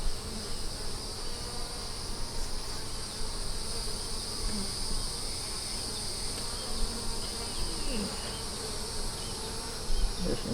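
Honey bees buzz around an opened hive in summertime South Carolina, a dense, continuous hum of many insects close by, with a few brief soft knocks and no voices.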